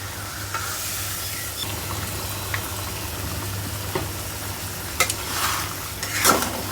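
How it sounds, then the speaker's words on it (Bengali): Spice paste for a spotted-hen chicken curry sizzles steadily in a pan while a spoon stirs and scrapes it, with a few louder splashes and hisses near the end as water is added; no talking. "এখন সবগুলো দিয়ে দিব একটু কষায় পানি দিয়ে দেব"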